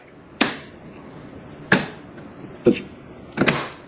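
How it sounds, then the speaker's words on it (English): A door pushed shut repeatedly on a sticking dead bolt, four sharp knocks of wood and latch against the strike plate, spaced about a second apart and heard close with no talk. "if I just barely push in on the door and get it to catch"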